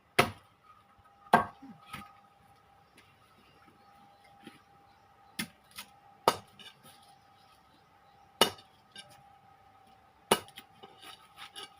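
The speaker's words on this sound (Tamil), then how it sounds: "அதுக்காக தான் இப்படி வெட்டுறேன்" A knife chopping food on a wooden cutting board: sparse, sharp chops spaced a second or more apart, fairly quiet, with a faint steady hum behind them and no voices.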